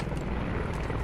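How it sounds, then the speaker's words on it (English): A helicopter's rotor thrums steadily with a dense, rumbling drone, close and continuous, with no voices, in a video game. "Eyes on the enemy helicopter south."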